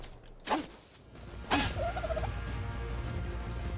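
Two sharp gobbling bird calls about a second apart, followed by a short warbling trill over a low steady background hum, from the video game ARK: Survival Evolved.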